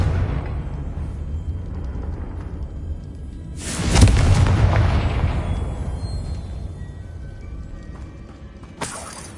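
A Confringo blasting spell explodes in the Hogwarts Legacy video game, a sudden loud burst that rolls off into a long decaying rumble over steady game background noise.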